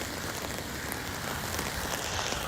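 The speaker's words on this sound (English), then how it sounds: "How long has it been raining for?" Steady rain falls outdoors during a Pokémon GO event, a continuous broadband hiss of drops on surfaces that stays even and fairly loud throughout with no voices.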